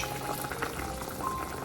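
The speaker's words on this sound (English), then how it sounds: "it's going to simmer until it's fully cooked" Bulgur pilaf with green beans and tomato simmers in a pot over lowered heat, giving a steady, close bubbling and hiss that carries on without pause.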